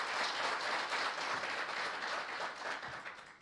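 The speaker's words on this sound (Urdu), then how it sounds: "آپ کے لیے بہت بہت تالیاں" Audience applause at an Overseas Pakistanis Global Foundation ceremony after a song, a dense, steady wash of many hands clapping that stays loud throughout and thins slightly at the end, with no talk over it.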